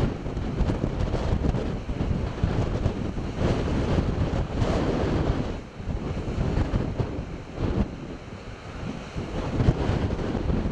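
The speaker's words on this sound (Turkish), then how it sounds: "Dev dalgalar Karaburun limanını adeta dövdü." Huge storm waves pound the harbour breakwater at Karaburun, a loud ongoing roar of surf and crashing water with heavy wind buffeting the microphone throughout.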